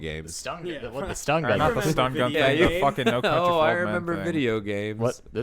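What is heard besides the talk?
No everyday noises stand out.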